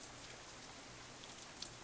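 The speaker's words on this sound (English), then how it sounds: "try and be heard over the combined noise of the wind and rain" Steady rain in the Katawa Shoujo visual novel, a faint, even hiss of falling drops with a soft windy wash underneath, alone and unbroken.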